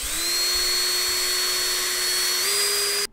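A small power tool whines at a steady high pitch as 320-grit sandpaper works the back ends of metal wheels. The sound is loud and close, rises slightly near the end and cuts off abruptly.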